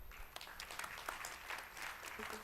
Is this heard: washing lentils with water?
no